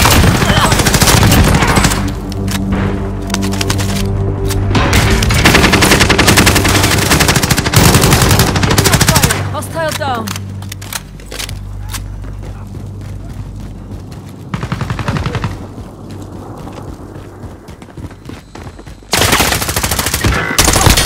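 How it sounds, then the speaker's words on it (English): Video game gunfire comes in loud sustained bursts of rapid automatic fire with booming shots, broken by short lulls and resuming near the end, with faint game voices mixed in. "Taking shots!"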